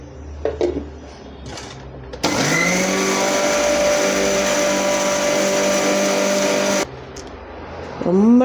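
A mixer grinder powders curry leaves with roasted dal, a loud steady motor whine running unbroken for about four and a half seconds, with quieter clinks and handling sounds before it starts and after it stops.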